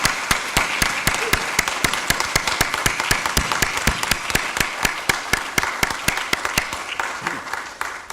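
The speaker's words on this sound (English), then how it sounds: "Please join me in giving them a great round of applause for everything they've done." An audience gives a round of applause at a closing session, dense steady clapping from many hands, loud and close, tapering slightly toward the end.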